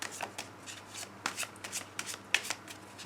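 Tarot cards are shuffled and cut by hand for a reading, making a series of quick, crisp riffling and slapping bursts at an irregular rhythm, close and fairly quiet, with no talking.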